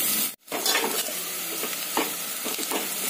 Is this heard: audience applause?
no